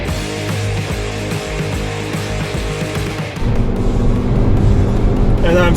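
A Toyota RAV4 Prime accelerating hard in a drag race against a V8 police car, a steady droning road and drivetrain noise that swells louder partway through and keeps pressing on.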